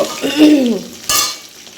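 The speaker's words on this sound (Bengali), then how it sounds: "দুটো দুটো করে দিয়ে ভাজছি এখানে দুটো ভাজা হয়েছে এখানে দুটো ভাজছি" Pieces of fish fry in hot oil two at a time, heard as a brief sizzle burst and a scraping, squeaky stir in a short, close-up moment.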